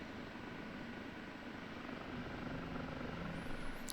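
An OH-58D Kiowa Warrior helicopter in the DCS flight simulator lifts off, its engine and rotor making a steady droning rumble that slowly grows louder, with no talking.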